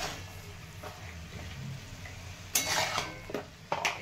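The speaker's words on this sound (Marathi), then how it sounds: "त्यामध्ये परत भाजी टाकलेली आहे, परतून घ्यायची" Fenugreek leaves stir-fried in a pan with garlic and green chili: a faint, low sizzle with a few sharp scrapes and clinks of a spoon against the pan toward the end.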